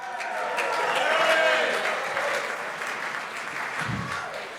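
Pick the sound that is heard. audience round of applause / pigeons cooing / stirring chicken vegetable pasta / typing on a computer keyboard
audience round of applause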